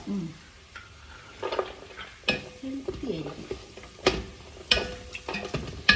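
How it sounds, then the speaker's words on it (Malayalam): Tomatoes being stirred into biryani masala frying in a pan at home, with scraping spoon strokes and clinks of utensil against pot over a steady close sizzle, in irregular bursts. "തക്കാളി ഇട്ട് കിണ്ടണം കേട്ടോ."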